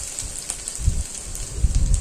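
Chopped garlic dropped into hot oil already frying dried red chili, giving a dense crackling sizzle with irregular popping bursts, close and continuous.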